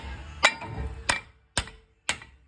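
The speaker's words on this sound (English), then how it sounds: "I will hit the end of the nut to help drive" Four sharp metallic hammer strikes on the end of an axle nut on a 2005 Dodge Ram 1500 during lower ball joint replacement, spaced roughly half a second apart, close and clear, with quiet between blows.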